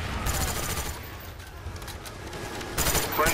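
Automatic fire from a sentry gun in the video game Black Ops 1, sustained rapid bursts that ease off midway and then swell loud again, heard with other in-game gunfire.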